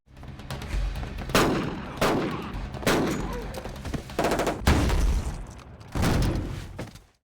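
Bursts of rapid gunfire crack through a police shootout in a film, with several loud volleys separated by short pauses and heavy booming impacts.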